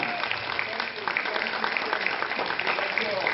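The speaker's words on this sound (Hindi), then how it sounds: "जोरदार तालियां" Applause from a theatre audience at a staged play show in Jammu, greeting writer-director Rama Pandey; a dense, steady wash of many hands clapping throughout, with voices mixed in.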